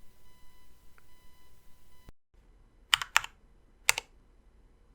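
Keystrokes on a keyboard fitted with IV Works Brevity tactile switches, three or four sharp clacks in quick succession after a steady electronic tone cuts off, close and clear with no talking.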